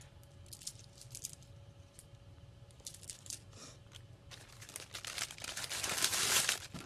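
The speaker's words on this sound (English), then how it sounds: "Sorry for the crinkling plastic" Plastic bead packaging crinkles and rustles close by in bursts that grow louder and busier toward the end, with a faint steady tone in the background.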